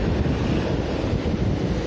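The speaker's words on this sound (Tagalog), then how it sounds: "malakas yung alon mga buddy" Strong waves pound a shoreline during a fishing outing, a dense, continuous roar of surf mixed with heavy wind buffeting the microphone, with no voices.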